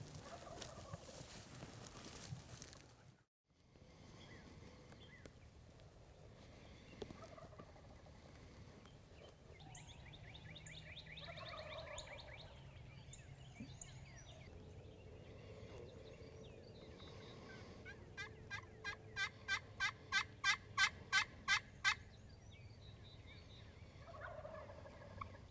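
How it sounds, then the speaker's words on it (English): Wild turkeys gobble in the distance during a hunt, with one faint call early on and then a loud, rapid run of gobbles late in the clip, over quiet outdoor ambience. "a couple more birds gobble right in front of them"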